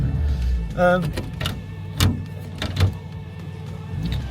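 An electric sunroof on a Ford Fiesta Mk2 whirs open with a short motor hum, followed by a couple of dull clunks inside the car, close and fairly loud amid faint cabin noise.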